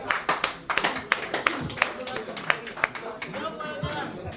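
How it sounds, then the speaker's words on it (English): Applause at a general assembly meeting honoring the electoral committee: scattered, uneven hand claps from a modest gathering, close and fairly loud, with some murmuring voices mixed in. "Let's give a round of applause to"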